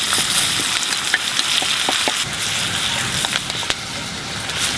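Sausage and onion frying in a pan at a camp meal on a treetop bird hunt in the Hossa wilderness, with a steady close sizzle and scattered small crackles and pops throughout.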